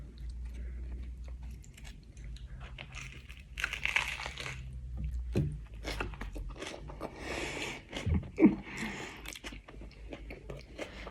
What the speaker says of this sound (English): Sorry if you don't like that munching noise.